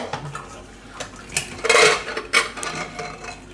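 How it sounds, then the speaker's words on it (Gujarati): A pressure cooker holding boiled tomatoes is lifted off a kitchen stove and opened, giving sharp metallic clanks and scrapes of the pot and lid, a few distinct knocks in an otherwise quiet kitchen. "તો કુકર આપણે હવે ઉતારીને જોઈ લેવું."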